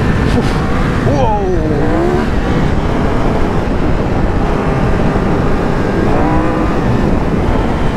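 A 2022 Triumph Tiger 1200 Rally motorcycle riding hard off-road, its engine a loud, steady roar with rising rev sweeps as it drifts, heard up close over rushing wind noise.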